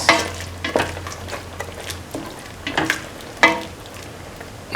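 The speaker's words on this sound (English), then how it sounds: "Now scrambled eggs, and mix." Scrambled eggs being stirred and mixed in a pan for an egg, soya chunk, carrot and coconut milk stew, with repeated utensil scrapes and soft sizzling at close range and no talking.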